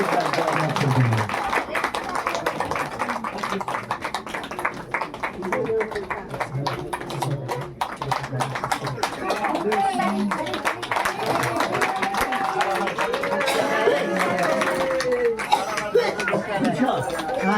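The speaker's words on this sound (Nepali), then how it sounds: "ताली बजाउन सक्नुहुनेछ" Wedding guests clap after the ring exchange, a steady patter of many hands mixed with crowd chatter and talking throughout.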